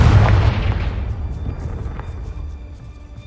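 A Confringo blasting spell in Hogwarts Legacy sets off a loud, deep explosion that opens with a heavy boom and then rumbles and fades gradually over a few seconds, with no talking.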